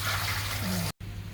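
Water from freshly boiled meat pouring and trickling through a kitchen sieve, a steady close splashing wash that cuts off briefly before resuming.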